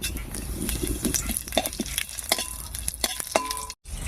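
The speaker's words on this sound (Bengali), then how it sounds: "তেলের মধ্যে দেবো একটা শুকনো লঙ্কা আর দেবো হাফ চামচ মতো কালো জিরা" Dried red chilli and nigella seeds crackle and sizzle in hot mustard oil, a close, steady frying hiss with scattered sharp pops and light stirring scrapes throughout, with no talking.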